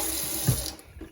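Tap water running into a rice cooker bowl, a brief steady rushing pour that shifts in tone as the bowl fills, then tapers off, with no one speaking.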